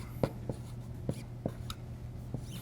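During a math lecture, writing is erased from a board with several brisk rubbing strokes at an uneven pace, close and moderately loud over a low room hum.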